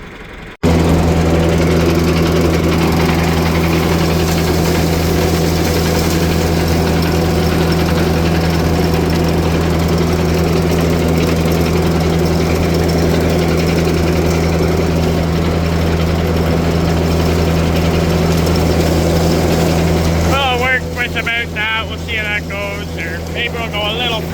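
A smaller tractor engine pulling wagons of corn silage drones steadily and loudly throughout, with a brief mechanical clatter near the end.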